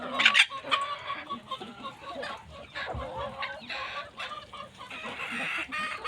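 Bantam hens and roosters on a farm homestead cluck and call close by, with overlapping bursts of fowl sounds and a sharp crow-like squawk at the start, continuing irregularly throughout.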